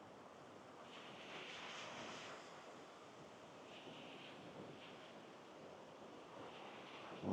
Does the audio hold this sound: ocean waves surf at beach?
yes